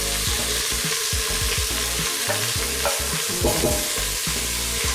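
Onions sizzle loudly in a pan while a utensil stirs them in repeated scraping strokes, a dense continuous fry with no talk.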